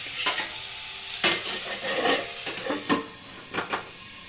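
Beans and potatoes fry in a covered pan over a gas flame, with a steady sizzle broken by several loud scraping stirs and clatters of a spatula at irregular intervals.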